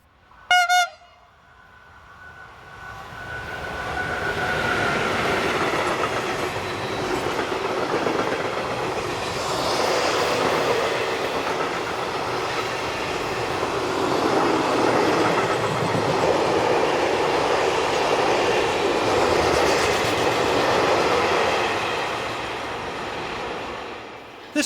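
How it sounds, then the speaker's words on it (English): A Class 185/187 locomotive hauls an eastbound freight train past on a German main line, a steady rumbling roll with clickety-clack that lasts throughout, opened by a short horn toot. "One 185-187 heads an eastbound freight, number 511151, from Cielce Yard, Hanover, to Sedin Yard,"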